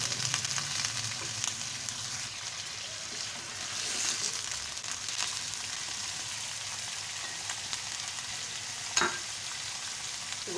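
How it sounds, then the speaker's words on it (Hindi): Chicken for white karahi fries in a karahi with a continuous, fairly loud sizzling crackle and occasional stirring, no talking. "इसको तकरीबन 5 से 7 मिनट हमें फ्राई करना है"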